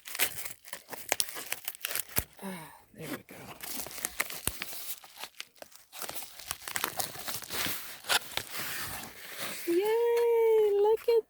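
Thick plastic packaging around a new cutting board being opened with scissors, heard as close, irregular crinkling and tearing bursts, with someone talking between them.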